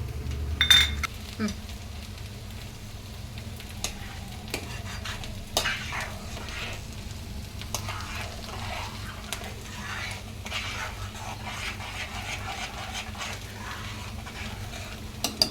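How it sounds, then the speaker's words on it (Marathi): Milk kheer bubbling in a pan on the stove, a soft low simmering hiss with scattered light clinks and stirring knocks, fairly quiet throughout. "आपल्या खिरीला छान उकळी आली आहे"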